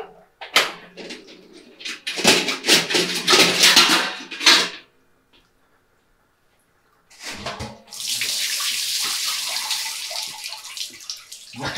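Cold water runs and splashes inside a fermentor during a quick rinse, in bursts with a pause between, ending in a steady hissing spray. There is no talking.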